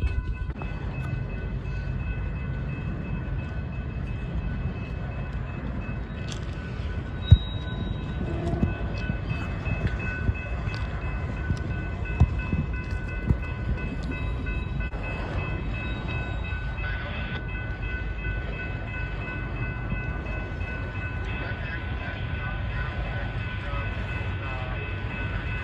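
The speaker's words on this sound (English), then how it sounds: "this train was being pulled by the same SD-45 that we saw from a distance earlier" A train pulled by an SD45 diesel locomotive rumbles past nearby with a steady low engine drone and rolling wagon noise, a few clanks and faint squeals over the continuous roar.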